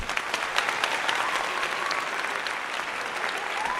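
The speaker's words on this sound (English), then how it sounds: "Round of applause for Dern" Dense, steady applause for UFC fighter Dern rises from the crowd, a continuous wash of many hands clapping at once, loud and unbroken throughout.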